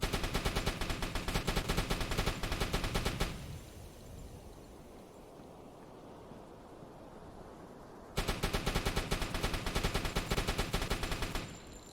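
Rapid machine-gun fire from a deck gun in the submarine game UBOAT, shooting at cargo boxes, with a dense rattling burst that stops for several seconds and then resumes just as loud.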